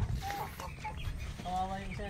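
Farm chickens cluck in short bursts close by, mixed with people talking.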